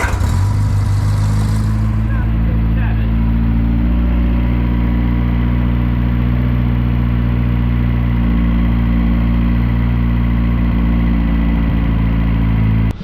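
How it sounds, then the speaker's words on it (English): An Austin Ten engine idles loud and close, a steady low rumble that ticks over evenly throughout with no one speaking. "get the engine ticking over and I can work on with that"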